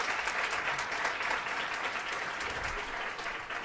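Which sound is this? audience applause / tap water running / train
audience applause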